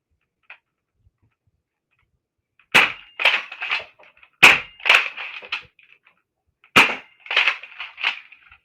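A Nerf blaster fired three times, each shot a sharp loud snap followed by a quick rattling mechanical clatter of the priming action, close and clear in an otherwise silent room.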